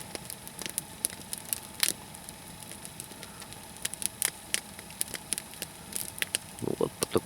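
A nodya log fire burns in the taiga, crackling with scattered sharp pops and snaps at an irregular pace over a low steady background, close by and moderately loud.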